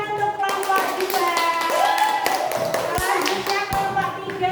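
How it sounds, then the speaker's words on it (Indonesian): A group of children clapping for their classmates in a classroom, a lively burst of applause with sharp taps over ongoing chatter and an adult voice talking. "tepuk tangan untuk kelompok 2"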